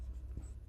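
Pen or chalk writing out a physics rule by hand during a lesson on the reflection of light, a short soft scratching stroke heard close and alone.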